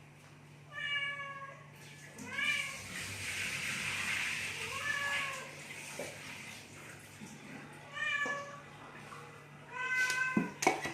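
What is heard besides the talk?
pet cat meowing insistently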